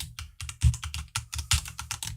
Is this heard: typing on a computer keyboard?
yes